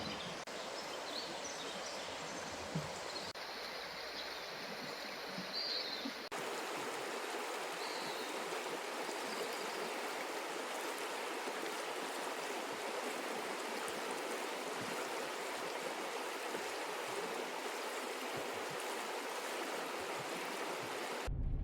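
The Metolius River rushes steadily beside a campsite, a soft, continuous broadband water noise with a few faint bird calls early on.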